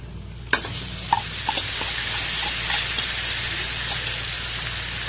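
Chicken pieces hit a hot pan for bitter gourd and chicken with sotanghon, setting off a loud, close sizzle that spikes at first contact and then holds steady, with a few spoon scrapes as it fries.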